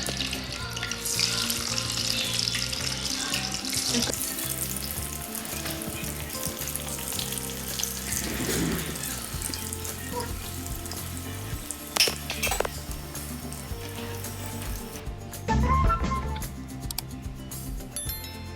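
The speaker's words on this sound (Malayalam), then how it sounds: "ഇതുപോലെ ബോളാക്കി എടുക്കാം ശേഷം നമുക്ക് എണ്ണ ഒഴിച്ച് പൊരിച്ചെടുക്കാം" Unnakkaya balls deep frying in plenty of hot oil, a loud continuous sizzle and crackle with occasional clinks of a utensil and stirring, close by and with no talking.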